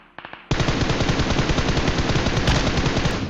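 An M4 rifle fires in a PUBG match, opening with a few separate loud shots before a sustained rapid burst of automatic fire. The gunfire is close and dominates, with no voices.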